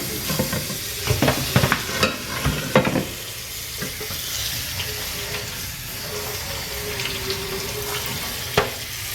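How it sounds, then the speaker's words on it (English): Cooked fettuccine is strained and rinsed in a sink: wet clattering and sloshing as the noodles are tipped out, followed by a steady stream of running tap water with an occasional knock. "We're gonna strain our noodles. We're gonna wash them off."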